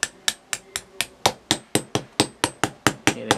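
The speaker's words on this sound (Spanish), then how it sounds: "hay que apoyarse con la ayuda de un martillo" Sharp, regular hammer taps on steel laminations being pressed into a transformer core for a 500 W 12 V inverter. Around fourteen close, loud metallic strikes come in a steady rhythm with no talking.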